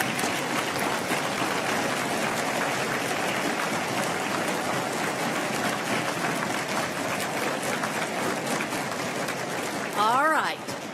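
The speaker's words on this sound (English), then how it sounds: "Please join me in a round of applause to thank them." Audience applause for volunteers at the national MATHCOUNTS mathematics competition, a steady dense wash of clapping filling the hall for about ten seconds, with a voice and a brief whistle near the end.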